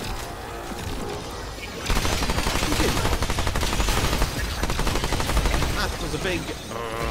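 Rapid, sustained gunfire in the video game Remnant 2 erupts after about two seconds of quieter game sound. The shots come as a dense, loud barrage that continues to the end.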